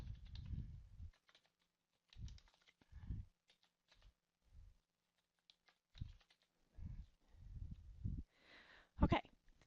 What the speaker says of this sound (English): So I'm just going to type in Catherine